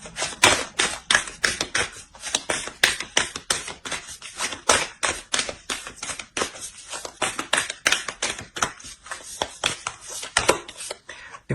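Oracle cards shuffled by hand give a rapid, steady run of crisp, close flicks and taps that lasts throughout, with no talking.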